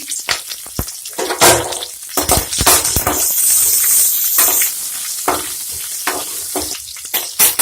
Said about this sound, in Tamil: கருவேப்பிலை, பச்சை மிளகாய் ஆட் பண்ணிடுங்க.